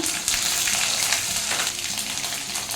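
Ginger and green chili paste frying in oil with bay leaf, dried red chili and whole cumin for a fig curry, giving a steady, close, loud sizzle that hisses without pause.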